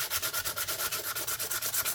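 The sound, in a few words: sandpaper sanding the edge of a 20p coin ring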